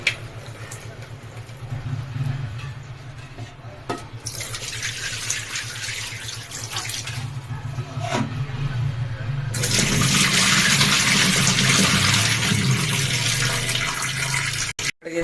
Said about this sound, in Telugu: రెండు మూడు సార్లు రవ్వ అనేది కడిగితే ఇడ్లీలు మంచిగా తెల్లగా వస్తాయి